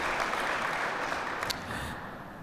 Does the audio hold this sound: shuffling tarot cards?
no